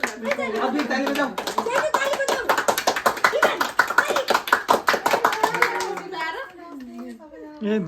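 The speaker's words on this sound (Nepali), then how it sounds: "अभी ताली बजाऊ" A group of people clap in a rapid, uneven burst of many hand claps, close and lively, with children's voices and chatter running through it before it tails off into talk.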